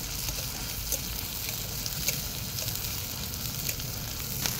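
Onions fry in a pan during outdoor cooking beside the Ganges at Nabadwip, giving a steady, close hiss of sizzling oil with faint crackles and no talk.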